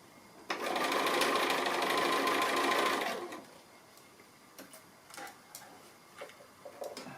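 A sewing machine stitches a button pin cushion, a close, steady rattling hum for about two and a half seconds that then stops, followed by quiet handling clicks and taps.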